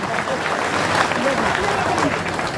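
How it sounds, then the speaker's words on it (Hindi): A crowd at a political rally in Purnia claps loudly and continuously, a dense, even wash of applause filling the whole moment. "ताली बजा दीजिए"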